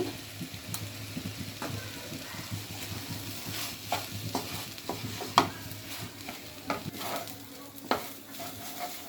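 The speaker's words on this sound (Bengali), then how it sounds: "তারপরে চাল একটু ভাজা ভাজা হয়ে গেলে তারপর জল দিব। চাল ভাজা হয়ে গেছে" Pulao rice with a little salt is fried in oil for vegetable pulao, a continuous gentle sizzle under rhythmic scraping stirs and occasional knocks of the spoon against the pan.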